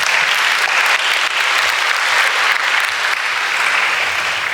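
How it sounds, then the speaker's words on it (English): Audience at an Islamic Association of North America marriage-preparation talk applauding, a dense, steady wash of clapping that holds at full strength throughout. "Another round of applause for Idil."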